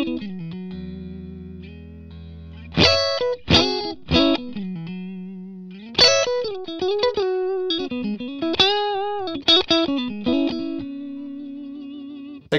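Distorted electric guitar, a Mojotone '67 Quiet Coil Strat pickup set on the neck and middle pickups, played alone: a held note followed by bursts of picked phrases and sustained ringing notes.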